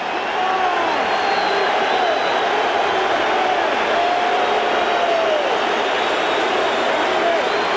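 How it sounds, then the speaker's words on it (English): Applause and cheering from a large baseball crowd at Wrigley Field during a seventh-inning pitching change, a steady, dense roar of clapping and voices that holds evenly for the full stretch. "Nice ovation from this crowd now at Wrigley"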